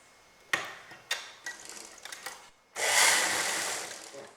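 A sewing machine stitches a doubled cross strip for a sleeveless back-open blouse with four tucks: a few sharp handling clicks come first, then a close, steady burst of stitching lasting more than a second.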